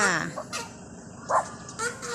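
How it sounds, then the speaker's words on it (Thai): Geese honk and call in short bursts close by while playing in front of a house, with a voice heard between the calls. "น้องห่านเขาเล่นอยู่หน้าบ้าน"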